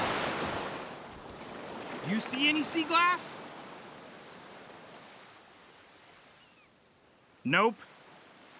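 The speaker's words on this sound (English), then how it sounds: "Let's see what the next wave brings in." Ocean waves wash onto a beach in a steady soft roar with a louder surge at the start, while two people talk briefly over the surf.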